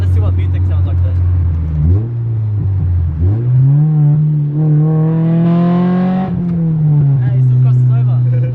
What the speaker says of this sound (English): let's see what VTEC sounds like there.